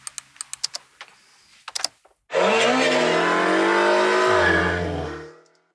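A Mini Cooper engine sound effect for a car chase scene: a loud, sustained engine roar that rises in pitch, then drops and fades out, preceded by a few sharp clicks like typing.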